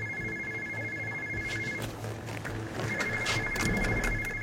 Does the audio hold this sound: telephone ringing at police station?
yes